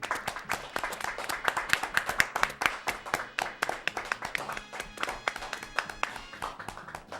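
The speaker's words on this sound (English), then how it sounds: "Let's have a round of applause for these lovely players" A small group claps for co-op game players, a sustained patter of hand claps at close range, fairly steady and moderately loud, with a bit of voice mixed in.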